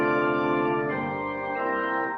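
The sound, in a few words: organ playing high-pitched flute stops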